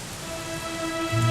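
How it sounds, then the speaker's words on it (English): Steady rain pours in a Dragon Quest 11 game scene, a continuous hiss of falling drops with a low rumble swelling near the end, no voices over it. "it was raining like this the last time I ever saw her"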